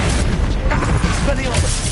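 A Bombarda spell explosion in Hogwarts Legacy booms low and dense through the whole stretch, mixed with battle noise and voices shouting.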